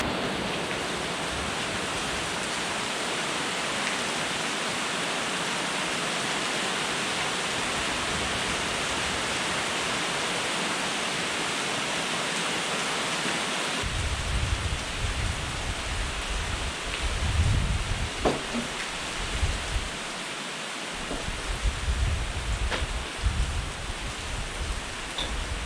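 Heavy tropical storm rain pours down in a dense, steady roar that never lets up, with occasional louder splashes and low rumbling in the second half.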